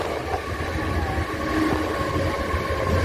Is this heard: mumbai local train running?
yes